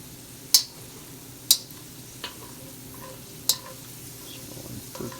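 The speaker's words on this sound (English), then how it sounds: "these are actually going to be in the finished stir fry, I'll just put them onto the sides of the wok and then fold them into the ultimate product" Beef and bell peppers stir-frying in a wok give off a faint, steady sizzle, broken by four sharp, evenly spaced clicks of a utensil against the pan.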